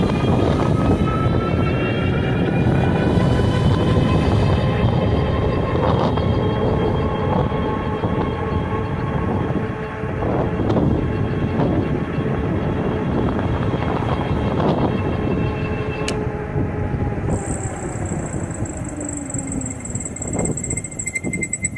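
A Monday Motorbikes Anza 750W electric motorbike accelerates at full throttle on a flat road. A rising electric motor whine rides over loud, steady wind rumble for about twenty seconds, with no one talking.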